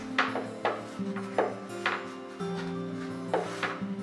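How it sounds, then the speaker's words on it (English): A knife cuts away excess apple pie crust in a series of short, sharp taps against a hard surface in an uneven rhythm, close and clear, with no talking. "you can take a knife and then just cut it like this"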